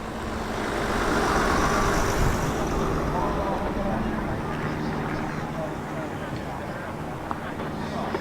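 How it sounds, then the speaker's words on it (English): A rare four-wheel drive Toyota Tercel pulls away at a rust-themed car show, its engine a steady low rumble under crowd noise and announcer talk. "Also leaving is that rare four-wheel drive Toyota Tercel."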